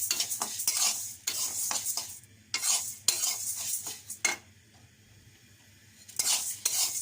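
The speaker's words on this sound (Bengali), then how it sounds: "এখন হচ্ছে ডালটাকে আমি সুন্দর করে ভেজে নিই" Lentils (dal) are stir-fried in a pan: bursts of scraping and clinking from a spoon against the metal alternate with short quiet gaps, over a faint sizzle.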